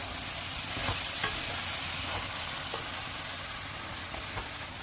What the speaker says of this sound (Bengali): শাকগুলো এইভাবে কাটি দিয়ে নাড়াচাড়া করতে হবে